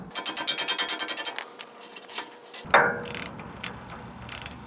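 A wrench works loose a stubborn bolt on a boat trailer hub, opening with a run of rapid, evenly spaced ratchet clicks, then a sharp metallic crack as it breaks free and a few scattered clicks, close and loud.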